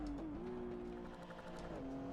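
A race car engine holds a steady, buzzing note during the Nürburgring 24-hour race. The pitch dips briefly early on, then runs on and drops again near the end, loud and continuous over a wash of road and wind noise.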